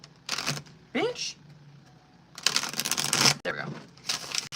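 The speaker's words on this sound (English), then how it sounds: "I gotta shuffle that one more time." Tarot cards being shuffled by hand, several quick riffling bursts with short pauses between, close and fairly quiet, with brief speech mixed in.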